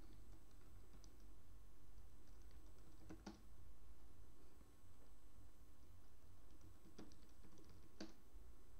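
Typing on a computer keyboard, faint, close and sparse, with a few distinct key clicks spread across several seconds over a steady background hum, with no talk.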